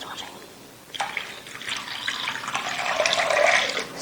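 Water pours steadily into a cooking pot of mixed ingredients for Karachi-style sohan halwa, a close, rushing splash that starts after a second of quiet and builds in strength until the end.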